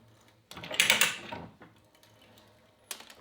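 A hand-operated ratchet pipe threader cuts threads onto pipe for pipe clamps, giving a near, loud burst of ratcheting and grinding that fades, then a short quiet gap and a brief final click.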